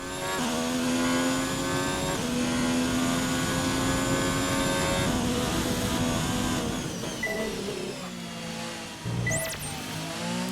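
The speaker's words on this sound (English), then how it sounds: "I'm easing onto the throttle until I feel like I've got enough traction to really punch the gas down" Race car engine in the F1 2019 video game, a loud sustained tone rising and falling as the throttle is eased on and then pushed hard, with gear shifts breaking the pitch and a brief squeal near the end.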